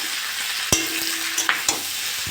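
Potatoes and flat beans fry with ginger-garlic paste in a pan, a steady close sizzle broken by a few sharp scraping knocks of a spoon stirring through the mixture.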